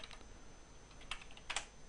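Fingers type on a computer keyboard, producing faint scattered clicks and a short burst of keystrokes against steady background hiss, with no speech.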